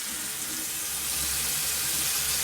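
Warm water runs steadily from a tap in a continuous hiss and splash, fairly close and even, with no talking.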